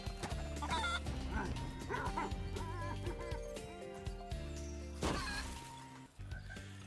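Chicken clucking amid Spyro Reignited Trilogy game music: several short, faint clucks scattered over a steady musical backing.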